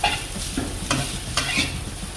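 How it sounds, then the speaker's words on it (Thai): Soba noodles with undulated surf clams being stir-fried in a hot pan: close, continuous sizzling broken by several distinct scraping strokes of the spatula, with no voices. "ผัดให้พออุ่นๆเนาะ หอยลายค่ะ"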